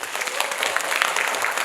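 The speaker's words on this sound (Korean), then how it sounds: "여러분 박수 치면서 마치겠습니다." An audience at an environmental talk show in Gyeongju claps in sustained, dense applause that fills the room evenly from start to finish.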